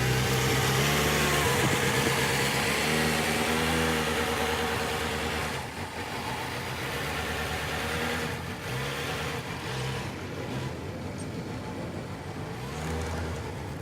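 A front-wheel drive K-car limousine driving through a snowy school parking lot, its mid-pitched engine droning steadily and loudly with slight rises and falls, heard alone with no voices.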